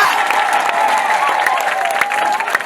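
A congregation claps loudly and continuously at a church prayer service, with a dense rapid patter of many hands and a sustained voice carrying over it.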